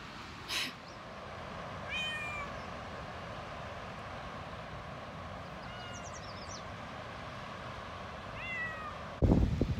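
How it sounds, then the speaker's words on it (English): A sad house cat meows repeatedly inside a trailer, with several drawn-out cries spread across the stretch over steady background hum, followed by a loud bump at the end. "Can you guys hear Brookie meowing?"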